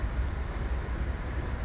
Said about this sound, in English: It sounds like this mechanical churning.